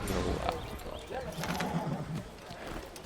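Horse hoofbeats at riding pace in the first Assassin's Creed game, a soft rhythmic clip-clop running steadily under someone talking throughout.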